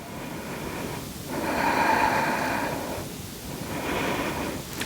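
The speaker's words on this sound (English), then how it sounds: "Breathing here." Slow, deep breaths during a flowing yoga sequence, with two long, soft rushing inhales or exhales that rise and fade, close and steady, with no talking.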